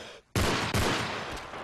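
Striker shotgun firing in Call of Duty: Modern Warfare 3, two loud close blasts in quick succession, the second tailing off into a long reverberant decay.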